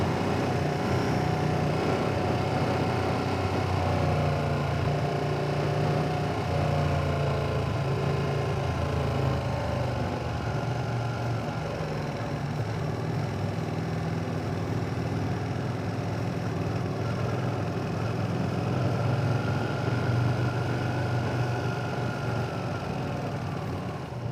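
A Ducati 959 Panigale sport motorcycle engine runs continuously with a rough, droning rumble, holding a steady pitch with slight swells, loud and close throughout.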